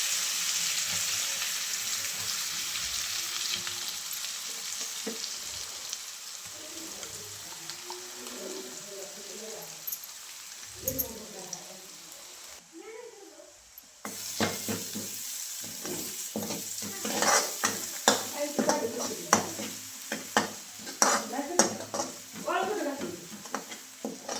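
Ground spice paste hits hot oil in a kadhai after cumin tempering for a Maharashtrian amti, bursting into a loud sizzle and frying with stirring scrapes that grow busier toward the end, with brief talk early on.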